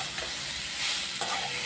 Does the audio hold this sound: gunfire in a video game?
no